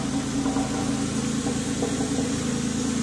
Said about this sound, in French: le start-up d'une Carrera 4S. C'est ça que ça fait.